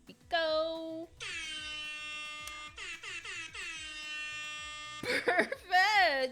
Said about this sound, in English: I have air horn noises for Dakota.